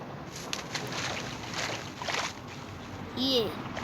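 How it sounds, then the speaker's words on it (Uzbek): A boat moving through water with a steady swishing wash and occasional splashes, a short rising whistle-like tone near the end. "Qayiqni olamizda, qo'yamizda, o'tiramizda, ketamiz."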